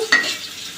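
Onions fry in a pan as a single short stir scrapes through the hot oil, followed by a soft, steady sizzle that fades slightly, close and clear with no talking.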